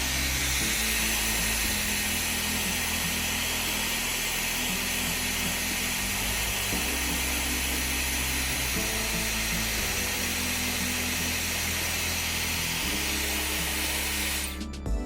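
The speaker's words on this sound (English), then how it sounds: "use a hairdryer to gently warm up the display surface" A hair dryer blows steadily and loudly in a repair setting, warming the display surface of a powered-off Apple Watch Series 7, with a continuous broadband whoosh and a drifting motor hum that cuts off abruptly at the very end.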